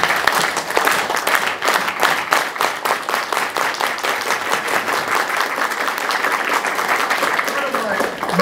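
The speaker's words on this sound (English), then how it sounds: "Let's give a clap for them." Lecture audience breaks into sustained applause, a dense wash of many hands clapping evenly throughout, loud and fairly close, with a voice faintly audible beneath it.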